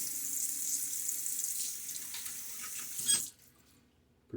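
Tap water runs steadily at a sink during a partial rinse in a wet shave. The close, hissing flow lasts about three seconds, then cuts off into near silence.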